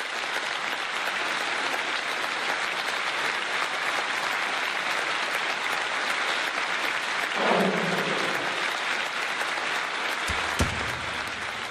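A crowd applauds with dense, sustained clapping that stays fairly even throughout, with a brief louder swell and a single sharp knock near the end.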